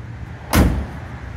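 Passenger door of a 1969 Dodge Coronet Super Bee shutting once, a single solid thunk close by against a quiet background.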